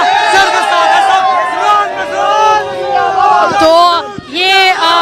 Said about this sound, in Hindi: तो ये रोड शो और रोड शो के बाद ये भीड़ यहाँ पर इकट्ठी होती है